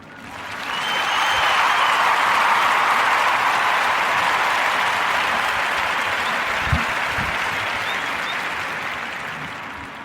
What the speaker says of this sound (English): Clap it up for Kelly Hart.